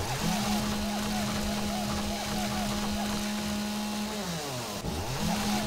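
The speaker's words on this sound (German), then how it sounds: "Jetzt voll Recoil die Kettensäge." A chainsaw in the survival game 7 Days to Die runs steadily with a buzzing, sustained engine drone, dipping briefly near the end before revving back up, loud and close.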